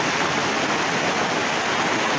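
Umbrella waterfall pouring down in a dense, steady rush of water, loud and close, an unbroken wash of noise with no voices.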